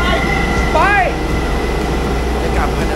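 A train at a railway station: a steady low rumble and hum run throughout, with a brief high squeal near the middle and faint voices in the background.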